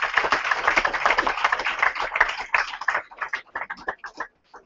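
Audience applauding Andy at a Fev Rovers squad number announcement, dense clapping that thins into scattered individual claps before fading out.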